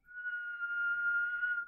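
A single sustained whistled tone, clear and fairly close, holding steady for under two seconds with a faint murmur beneath.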